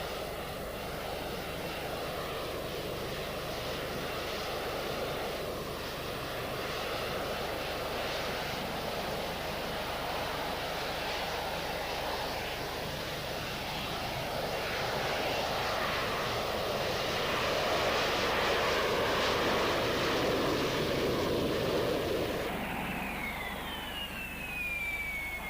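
Sustained roar of a Harrier jump jet engine, steady and loud for over twenty seconds with a broad rushing tone, cutting off sharply near the end.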